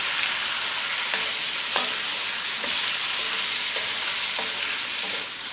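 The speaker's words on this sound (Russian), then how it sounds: "Отправляем сюда сырое мясо. И его тоже поджариваем" Raw beef tenderloin frying in a hot pan, browning with a steady close sizzle throughout and a few soft stirring scrapes spaced along the way.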